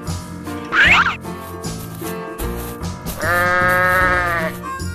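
A cartoon sheep bleats loudly and close, one short call and then a longer wavering one, over bouncy children's music.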